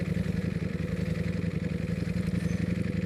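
A Ducati Panigale V4 engine runs steadily while riding on a road, a low rhythmic throbbing drone with constant pulsing and wind rush and no talk.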